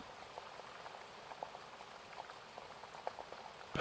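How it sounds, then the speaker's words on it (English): Soft rain patters steadily on a surface, a faint and even background of tiny drops with a few slightly louder taps, and no voice over it. "your ears listen for a little longer to the rain"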